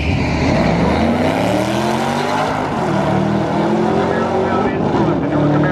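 Camaro ZL1 1LE engine roaring in a drag race, a loud, sustained engine drone that holds steady and shifts in pitch across the run, with voices heard faintly over it.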